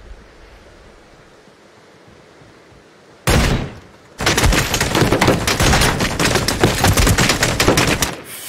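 Shotgun fire in a tactical shooter match, a sudden loud blast burst followed by a long stretch of dense, sustained gunfire noise, close and harsh after a quiet start.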